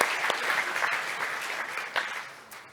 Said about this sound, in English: huge claps for like you all